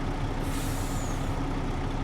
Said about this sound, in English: I'm just gonna leave the truck on in case I have to reposition it